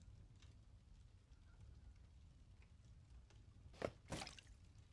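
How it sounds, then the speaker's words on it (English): Wine dripping from an old, fragile wooden barrel in The Dark Eye: Memoria: a quiet low ambience with a few faint drips, then two louder, sharper splashing drips near the end. "The wine now flows freely to the ground."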